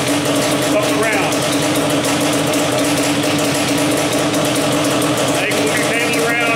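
A Yamaha Banshee ATV engine with too little slack in its throttle cable idles close by in a loud, steady, buzzing drone. The engine note barely shifts across the whole stretch.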